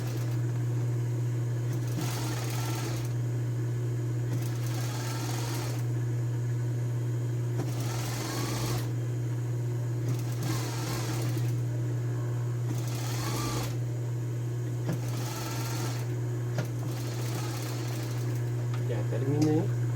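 Sewing machine running on a blouse's shoulder and side seams: a steady near whirr with a constant low motor hum and periodic bursts of stitching, and a voice speaking at moments between.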